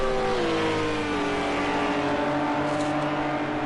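GT3 race car accelerating hard down a straight, engine note rising steadily through the gears with a short shift near the start, loud and close with no talk.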